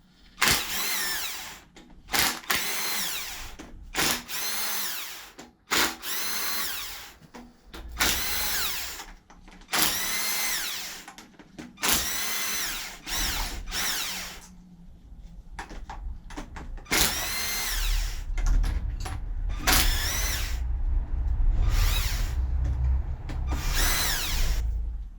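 A power tool spins out the cylinder head cover screws on a PSA 1.4 HDi engine in a run of short, close whirring bursts separated by pauses, ending in a longer, steadier stretch.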